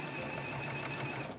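A serger sewing machine runs steadily and close, giving a dense whirring drone with a fast mechanical rattle over its brief span, with no talk over it.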